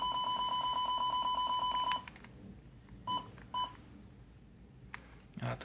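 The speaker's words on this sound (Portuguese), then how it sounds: "Esqueci de tirar o bipzinho." Electronic beeps from a SEMP 1022 TV as remote buttons are pressed in its service menu: a rapid regular series of bright tones for two seconds, then a few isolated beeps over quiet room background.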